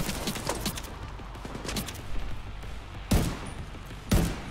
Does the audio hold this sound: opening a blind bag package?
no